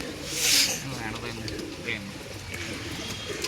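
Low, soft cooing of pigeons nearby, repeated murmurs under a steady background of outdoor noise and a brief higher chirp.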